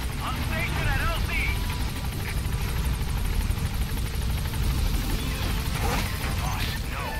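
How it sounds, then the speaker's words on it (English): The extraction helicopter in Metal Gear Solid V arrives with a loud, continuous rotor thrum and engine noise, and voices speak over it. "I'll send the extraction chopper."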